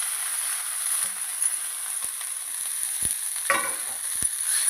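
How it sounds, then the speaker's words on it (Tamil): Fresh neem flowers are lightly sautéed in sesame oil, giving a steady, close sizzle broken by several sharp spatula scrapes and taps against the pan. "இதில் நான் ஃப்ரெஷ்ஷாக எடுத்து வச்சுருந்த வேப்பம்பூ இதில் போட்டுட்டு லேசாக வதக்கணும்"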